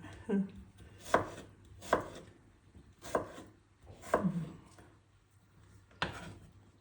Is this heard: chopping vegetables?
yes